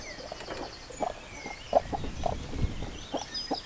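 Hens cluck softly with their newly hatched chicks in a separate homestead coop area, short repeated clucks and faint high peeps at close range, with no talking.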